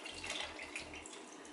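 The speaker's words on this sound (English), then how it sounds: "I'm also going to add a cup of water to this." A cup of water poured into a pot of Impossible Burger chili in an Instant Pot, a brief close splashing trickle of liquid.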